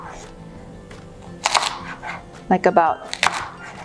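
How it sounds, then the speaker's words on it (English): Knife cutting Chinese cabbage into small pieces, a few crisp chopping bursts under a voice talking through the cooking. "this is the Chinese cabbage. And I'm just gonna cut it small"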